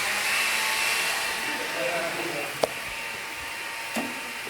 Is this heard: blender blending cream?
yes